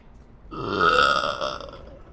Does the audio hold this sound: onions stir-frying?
no